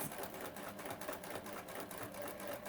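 Sewing machine stitching along a fabric binding, a steady fast mechanical chatter running continuously and close up without pause.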